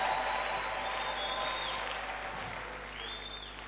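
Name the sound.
audience applauding and cheering for victory in church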